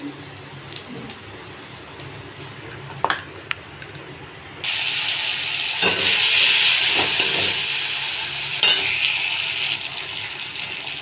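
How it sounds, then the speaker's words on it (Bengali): Whole spices sizzle in hot oil for tempering during cooking of a potol (pointed gourd) dish, starting abruptly as a loud, steady hiss that continues to the end after a quieter kitchen background. "ফোড়ন দিয়ে নেবে।"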